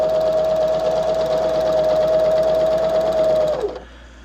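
A sewing machine stitches a seam for crafting, a loud, close, fast steady whirring and chattering that runs continuously, then winds down and stops near the end.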